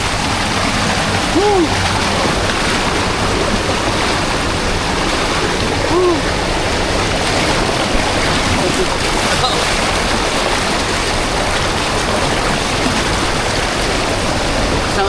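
Strong waves of rushing water surge loudly and steadily throughout, a dense continuous roar, with a person shouting excitedly over it a couple of times.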